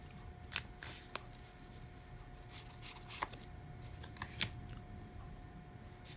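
Tarot cards are shuffled and pulled at close range, quiet scattered flicks and slides, a few sharper snaps, over a faint steady background hum, with no talking.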